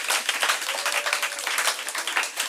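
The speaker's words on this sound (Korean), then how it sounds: "박수 한번 쳐줘요" A church congregation claps together for a few seconds during a sermon, a dense, steady patter of many hands heard fairly close and fairly loud with no speech over it.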